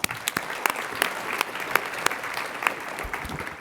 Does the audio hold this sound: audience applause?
yes